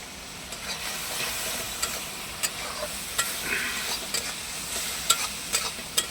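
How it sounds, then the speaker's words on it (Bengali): Ginger and garlic with ground turmeric, cumin and dried chilli frying in a pan for a Hyderabadi-style fish curry, a steady close sizzle broken by scattered sharp clicks and taps of stirring, with no voices. "আদা রসুনটা ভাজা হয়ে গেছে, এর মধ্যে হলুদের গুঁড়ো, জিরার গুঁড়ো আর শুকনো লঙ্কার গুঁড়ো"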